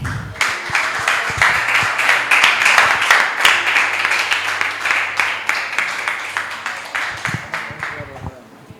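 A church congregation applauds, many hands clapping in a loud, dense, continuous round that slowly fades, with a voice speaking over it.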